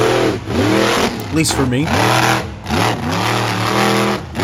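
Blockhead monster truck engine revving loudly in repeated rising and falling surges, each pitch sweep climbing then dropping, with a person talking over the roar throughout.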